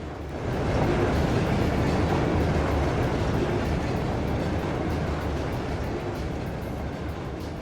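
Train rolling along in The Legend of Heroes: Trails of Cold Steel, a steady, continuous rumble with faint rhythmic clatter that holds at an even level throughout, no voices.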